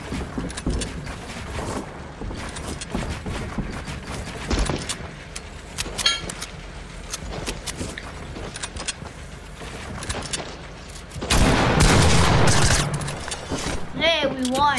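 Video game gunfire crackles through a match, with bursts of shots across the clip and a louder sustained volley near the end, under frequent excited talk from players.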